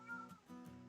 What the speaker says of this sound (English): Wow, cat.